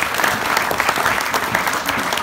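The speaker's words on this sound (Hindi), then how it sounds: "जोरदार तालियां।" A school audience gives a loud, dense burst of applause during a comedy show, many hands clapping together briefly and continuously.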